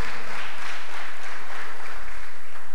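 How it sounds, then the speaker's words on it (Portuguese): A church congregation applauds in a steady broadband wash of clapping that runs the full length, moderately loud with no voices breaking through. "Aplaudam ao Senhor"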